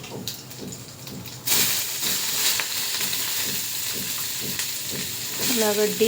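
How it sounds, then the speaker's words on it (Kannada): Chopped onion and green chili tossed into hot oil with cumin and mustard seeds, setting off a sudden loud sizzle that holds as a steady close hiss and crackle with stirring scrapes. "ಈಗ ಅದು ಫ್ರೈ ಮಾಡ್ಕೊತಾರೆ ಚಂದದ"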